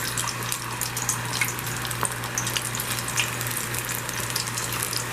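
Banana slices frying in a pan for Jamaican-style banana chips, a steady close sizzle and crackle under a low constant hum, with no voices.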